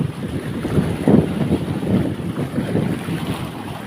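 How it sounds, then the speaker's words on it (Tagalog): Strong sea waves surge around a fishing boat out on open water, a steady wash of surf and water rushing against the hull with swells rising and falling, mixed with heavy wind buffeting the microphone throughout. "Lakas ng alon."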